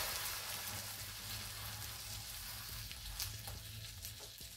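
Tofu slices fry in a pan for a garlic tofu toast, giving a steady close sizzle and crackle throughout, with light stirring clicks and no speech.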